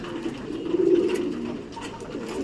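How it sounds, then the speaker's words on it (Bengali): Pigeons at a pigeon shelter, just landed after flying, giving a low throaty coo that swells and fades close by over faint background murmur. "এই পায়রাগুলো উড়ে নেমেছে দেখুন হাঁপাচ্ছে"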